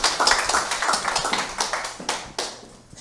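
Audience at a Korean business seminar applauds, a steady patter of many hands clapping that swells and fades over a few seconds, fairly close and lively, with a faint voice briefly underneath.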